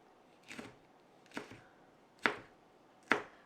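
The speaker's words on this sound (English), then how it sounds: "And then I'm just gonna cut these into rings." Four distinct knife chops cut peppers into rings on a board, each crisp and close with a short pause between strikes, the last two sharper than the first.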